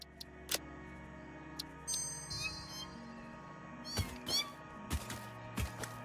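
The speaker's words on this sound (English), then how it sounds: "Are you an angry kitty?" A creature's cat-like meow from the game Satisfactory, with arachnophobia mode on, sounds as a few short separate cries over a quiet background hum. Soft ticking sounds are also present.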